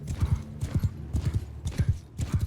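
Cavalry horses galloping in Mount & Blade II Bannerlord, rapid rhythmic hoofbeats in repeated clusters, close and heavy, with no talk over them.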